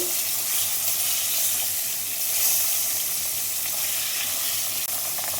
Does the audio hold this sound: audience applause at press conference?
no